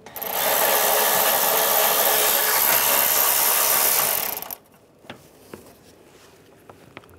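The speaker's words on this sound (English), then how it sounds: "Using a 10mm socket, I'm going to take this nut off right here." Ratchet with a 10mm socket working a nut in the engine bay of a 2010-2016 Cadillac SRX, a loud continuous rapid clicking for about four seconds, then quiet with a few faint taps and clicks.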